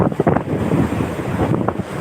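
Stormy sea waves surge and wash around a boat as strong wind buffets the microphone, loud and close, with no voices.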